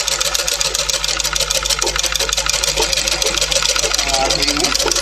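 A sewing machine runs in one continuous, even mechanical whir while stitching round-shaped piping on a blouse, loud and close, with a voice talking over it.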